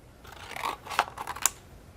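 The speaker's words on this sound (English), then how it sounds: "So let me get my scissors here." Scissors snipping paper or a card tag during crafting, a few quick faint crisp cuts close by against a quiet room.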